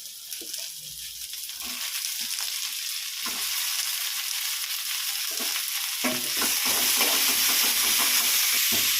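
Tomatoes and curry leaves fry in a hot pan with a green chilli, giving a loud continuous sizzle that swells as the clip goes on, broken by scraping stirs and clinks from the spoon, with no talking.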